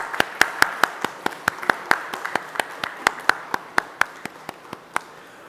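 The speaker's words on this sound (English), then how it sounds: "Warm hearts and maybe a round of applause" A small audience at a metal 3D printing machine launch event claps to welcome guests of honor, distinct individual claps in a brisk, slightly uneven rhythm, fairly close and not very dense.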